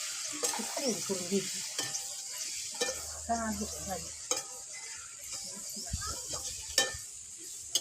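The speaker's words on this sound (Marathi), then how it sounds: "तेल गरम झाले भाजी टाकतो" Vegetables hit hot oil in a pan over a wood-fired clay stove and are stirred, giving a steady sizzle with scraping stir strokes and clatters, close by; a voice speaks briefly in the background.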